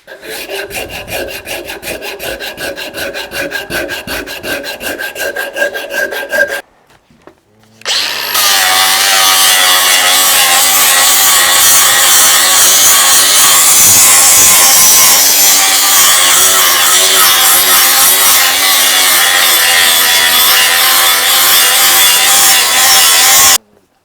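A power tool carves a new maple handle for a restored splitting axe, first a rapid buzzing whine, then after a brief pause a loud, continuous abrasive grinding against the wood that runs steadily to the end.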